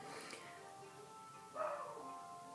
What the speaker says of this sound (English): Excuse my dog barking in the background like a crazy person.